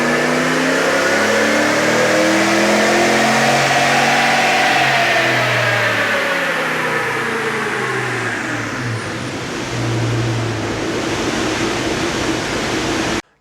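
A RAM 1500 pickup with a full aftermarket exhaust and no tune revs up, its engine note climbing and swelling loud and close, holding, then dropping away and briefly rising again before cutting off.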